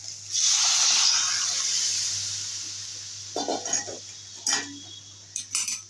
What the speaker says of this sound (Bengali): এবারে দিয়ে দেবো ডাল